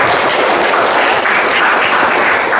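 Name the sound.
classroom applause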